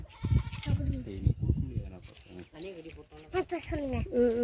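Tethered goats grazing outdoors give several bleats over a steady stretch of nearby talk, with the calls mixed in among the voices.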